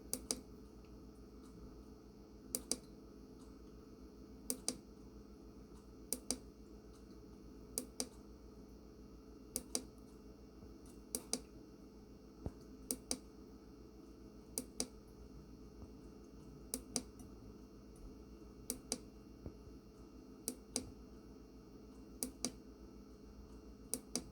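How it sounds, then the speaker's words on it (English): Light button on a Scentsy Premium Diffuser pressed repeatedly, sharp little clicks spaced a couple of seconds apart over a faint steady hum, close and quiet with no talking. "when you click this button for the lights, you can actually start to go from rainbow to click into whatever light you want it to go to"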